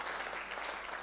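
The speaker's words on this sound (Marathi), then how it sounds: "यांच्यासाठी जोरदार टाळ्या वाजवायला पाहिजे." Audience at a Marathi literary gathering in Mauritius applauds, a dense, even wash of clapping from a large crowd filling the whole moment.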